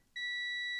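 Klein Tools MM450 digital multimeter in continuity mode gives a single steady electronic beep, a clean sustained tone that starts abruptly and holds unbroken to the end.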